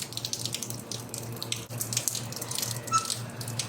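Light, steady drizzle falls outdoors in a flood-hit neighbourhood, making a soft, continuous watery patter over a faint low hum.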